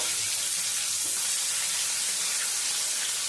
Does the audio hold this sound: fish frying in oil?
yes